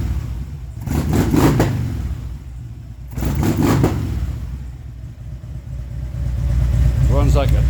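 A 2014 Harley-Davidson Twin Cam motorcycle with rocker lockers and a Hayden primary tensioner runs close by. Its rumbling idle is broken by two sharp throttle blips, then it settles back to a steady lope.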